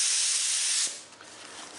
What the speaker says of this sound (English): I'm going to spray some on this white sheet right here real quick